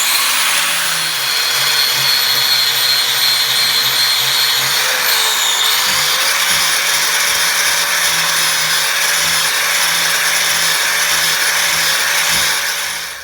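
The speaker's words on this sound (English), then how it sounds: "All right, now we switched over to the old buffing wheel." A buffing wheel spins continuously at polishing speed, giving a loud, steady whirring drone with a brief dip in pitch midway as work is pressed against it.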